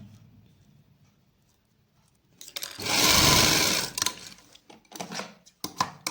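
A sewing machine stitches a straight salwar in one sustained whirring run of about a second and a half, followed by several short, stop-start bursts of stitching close by.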